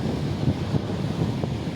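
Fast-flowing floodwater at Sukkur Barrage rushes in a steady, low roar, mixed with wind buffeting the microphone, with no voices.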